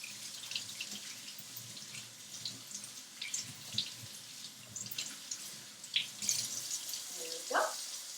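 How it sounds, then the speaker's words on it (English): Running tap water over hands being rinsed at a kitchen sink, a soft steady splashing stream with light drips, fairly quiet and alone without talk. "All right. Now I'm going to rinse."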